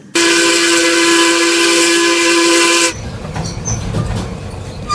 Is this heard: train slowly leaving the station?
yes